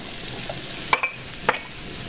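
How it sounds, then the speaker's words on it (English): Prosciutto, the Italian ham, sautéing in a pan as the base of a mascarpone cream sauce for cavatelli: a steady close sizzle with a few sharp clicks and taps of a utensil against the pan. "Okay, just saute that up"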